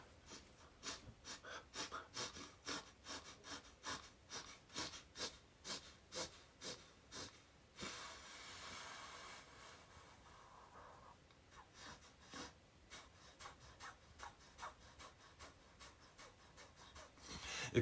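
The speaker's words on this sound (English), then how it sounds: "breathing with force in, and then letting it push its way out" Forceful rhythmic breathing exercise, sharp repeated breaths pushed in and out in a steady series of about a dozen close, loud pulses, then a rushing stretch before the pattern resumes.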